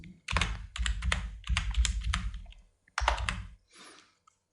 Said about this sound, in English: So hit F2 on the keyboard,